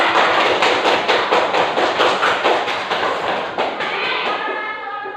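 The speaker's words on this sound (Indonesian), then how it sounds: "Tepuk tangan dulu." A primary school class claps hands together in a classroom, a dense run of fast, loud claps from many children close by that keeps going before fading slightly toward the end.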